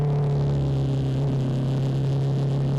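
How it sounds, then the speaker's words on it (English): A Kawasaki Z250SL, a liquid-cooled 250cc single-cylinder naked motorcycle, runs at a steady engine drone while being ridden on a commute, with a strong low hum held loud and constant throughout. "The Z250sl is a liquid cooled single cylinder"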